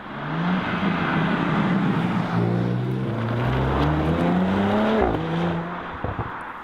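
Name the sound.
Audi S/RS car with optional sports exhaust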